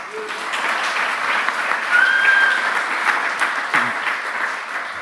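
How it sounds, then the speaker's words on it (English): A warm round of applause from the audience at a Python programming conference talk, dense steady clapping filling the room at moderate loudness, with a brief higher tone passing through midway. "So please give a warm round of applause."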